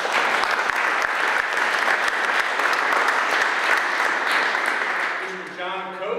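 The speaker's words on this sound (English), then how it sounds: "please give them a round of applause" Sustained, strong applause from guests at a social gathering in Madison, Virginia, honoring a couple, with crisp individual claps in a steady mass before fading into faint sound at the end.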